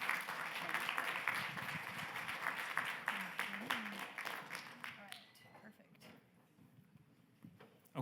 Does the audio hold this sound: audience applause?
yes